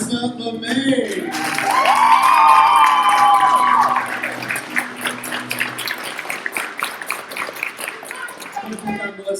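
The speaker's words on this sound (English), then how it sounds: "Give a round of applause for Melissa LeMay." Audience at the White Cloud Extravaganza 2022 breaks into applause and cheering, a loud swell of clapping and voices with a sung or whooping tone that fades into scattered clapping and crowd noise.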